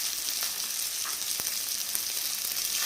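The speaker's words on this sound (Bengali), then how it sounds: "আমি একটু নেড়ে দেবো।" Hilsa fish head and green chillies frying in a pan, a continuous close, loud sizzle with a few soft scrapes of a spatula as it is stirred.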